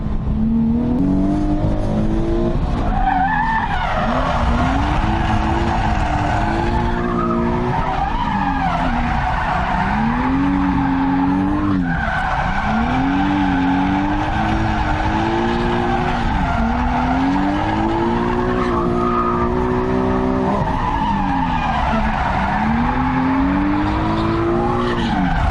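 A drift car skids through a competition lead run in Texas, its tires squealing loudly and continuously as the engine revs rise and fall in sweeping waves, close and sustained with no talk.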